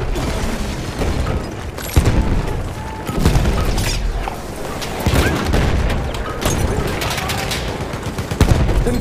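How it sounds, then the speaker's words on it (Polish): Grenade blasts and rattling rifle fire from a Battlefield 1 battle, with loud booms breaking through steady, dense gunfire and a low rumble for the whole stretch. "Uważajcie, leci granat!"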